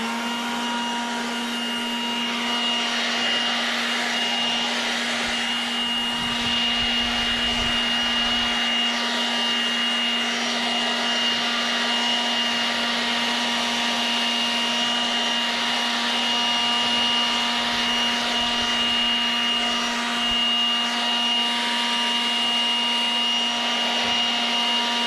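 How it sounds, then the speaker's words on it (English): Milwaukee leaf blower running steadily while clearing grass off a driveway, a loud, continuous high-pitched whine and airy rush with a strong tonal hum, close and unbroken throughout. "A lovely Milwaukee leaf blower. We're gonna blow the grass off the driveway because we can."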